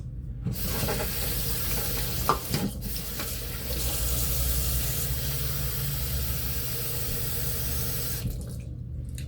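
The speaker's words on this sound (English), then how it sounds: "I'm going to be using 3 cups of water for brown rice" Water runs steadily into a rice cooker pot, three cups poured for cooking brown rice, a continuous close splashing hiss lasting most of the stretch before cutting off near the end.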